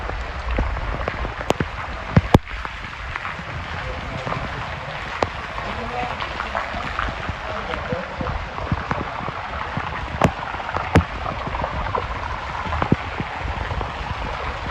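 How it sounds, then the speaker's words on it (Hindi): Rain falls steadily in a village, a constant hiss of drops on surfaces with occasional sharp drips and taps, while someone talks over it at times. "बारिश देखो।"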